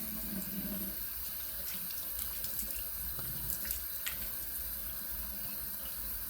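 Tap water running into a sink while lathering shave soap, a steady, faint hiss of flowing water with a few light splashes, heard alone.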